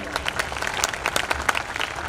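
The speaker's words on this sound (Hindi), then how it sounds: "एक बार जोरदार तालियां।" An audience at a motivational stage event breaks into dense, continuous applause, many hands clapping close and loud for a couple of seconds with no voices over it.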